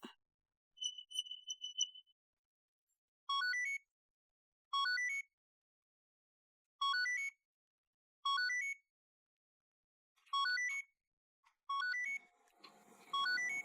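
A mobile phone rings with a repeating electronic ringtone, short bursts of bright melodic tones separated by pauses, fairly clear and close, with some faint background noise creeping in near the end and no talking.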